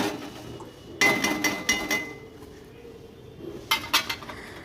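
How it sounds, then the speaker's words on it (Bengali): Curry stirred in a pot with a metal spoon, producing close clanks and scrapes against the pot's sides in two brief bursts, ending with a lid clattering into place. "জল দিয়ে একটু নাড়াচাড়া করে নিচ্ছি এবার ঢেকে দেব"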